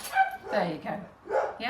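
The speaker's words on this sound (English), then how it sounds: "Sorry if you can hear my doggies in the background." Small pet dogs yapping and whimpering in short bursts indoors, caught in a brief moment of someone talking.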